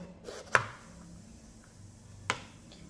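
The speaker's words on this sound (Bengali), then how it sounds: "এবার পেঁপেটাকে আমি ডুমো ডুমো করে কেটে দেবো।" A knife chops peeled papaya into cubes on a cutting board, two distinct sharp chops well apart against a quiet kitchen background.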